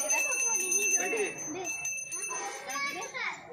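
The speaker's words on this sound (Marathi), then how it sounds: "घंटी ती वाजवेल ती घंटी दे" A small handheld puja bell rings at a home Ganesh festival celebration in Konkan, bright metallic tinkling repeated under children's chatter and excited voices nearby.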